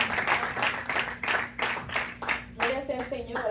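A church congregation breaks into rhythmic applause, steady clapping rising and falling in waves, with a voice and a sustained musical tone coming in near the end.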